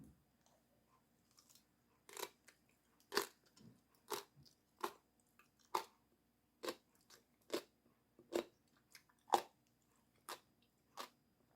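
Crunchy chewing of seasoned Korean pickled cucumber (oiji), about a dozen crisp, separate bites in a slow, steady rhythm, close to the microphone in a quiet room with no talking.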